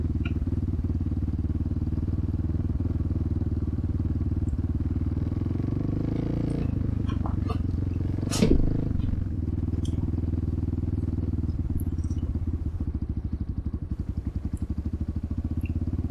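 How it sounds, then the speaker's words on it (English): A motorcycle fitted with a throttle-tamer modification chugs steadily at idle, its low engine note continuous and close throughout, with a brief rev lift partway through and a slight roughening toward the end. "get down chugging just at idle, and then accelerate with the clutch out"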